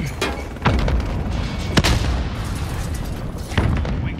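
Grenade explosion in Call of Duty: Modern Warfare Domination multiplayer, heard as a sharp boom near 1.8 s amid a dense, loud bed of gunfire and battle noise, with other blasts and pops around it.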